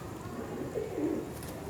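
Molting Salaray teddy pigeons let out a brief, low, throaty coo in the middle of a short stretch of steady background noise, with no talking.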